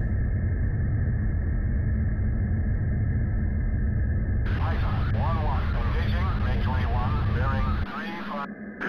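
An F-16 Viper jet rumbles on takeoff in the Falcon 4 flight simulator, a loud low engine roar under radio chatter that fades near the end.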